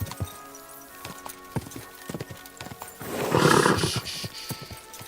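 A horse in the video game Kingdom Come: Deliverance 2 gallops in close, crisp, rhythmic hoofbeats, then lets out a loud neigh near the end as the hooves keep going.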